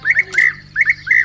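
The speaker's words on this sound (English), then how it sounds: "European bee-eater." European bee-eater calling with short, rolling whistled notes in two clear bursts of repeated chirps, fairly loud and close, separated by a brief pause.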